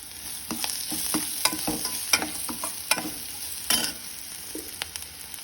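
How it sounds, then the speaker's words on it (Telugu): Sliced onions with salt sizzle and fry in a pan as a spoon stirs them, sharp scraping strokes repeating irregularly over a steady close hiss, with no talking. "ఉల్లిపాయలు సాల్ట్ వేస్తే త్వరగా వేగుతుంది."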